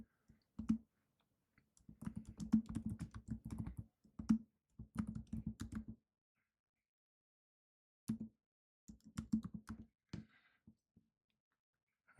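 Keys clacking on a computer keyboard as a command is typed, close and quiet, in two quick bursts separated by a pause, with a few final taps.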